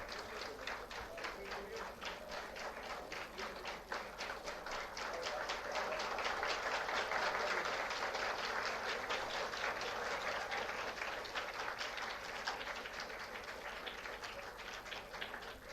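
Sustained applause from the audience at an alumni gathering, a long steady run of claps that grows louder midway and then eases slightly, with faint voices underneath.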